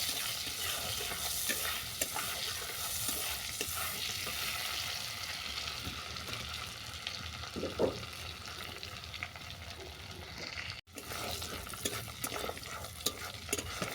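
Whole garam masala, bay leaf and dried red chilli sizzle steadily in hot oil for a Bengali prawn-with-sesame dish, a dense continuous frying hiss with occasional stirring clicks throughout.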